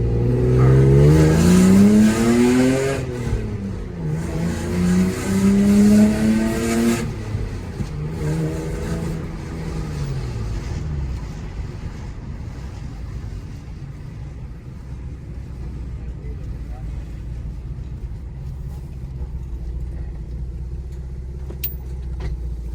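A manual Lexus IS300 with an unlocked ECU pulls away at low RPM up a slight incline. The engine drones loud and close, its pitch rising and dropping through several gear changes, then settles into a quieter, steady rumble.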